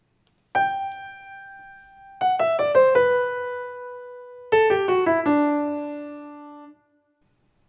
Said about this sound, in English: Here's the beginning of the music of Variation 6.